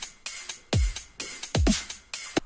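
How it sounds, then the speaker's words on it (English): A warped dubstep loop at 140 BPM plays alone, with punchy deep kicks sliding downward, sharp snare and hi-hat hits, repeating in a tight rhythmic pattern. "So let's say I have this dubstep loop."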